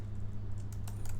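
A computer keyboard is typed on at close range while code is entered, a quick steady patter of key clicks with no pauses.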